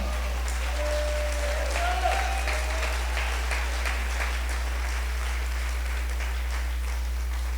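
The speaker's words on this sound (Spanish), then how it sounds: "Celébrelo con fuerte ovación." Congregation applauding in a church service, a steady wash of clapping held at an even level throughout, with a faint tone and low hum underneath.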